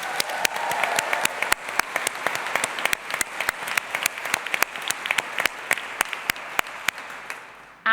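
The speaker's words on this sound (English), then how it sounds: "a really, really big round of applause for yourselves and your peers on your course" A graduation ceremony audience applauds steadily for nearly eight seconds, dense clapping with sharp individual claps standing out near the front, with no clear cheering.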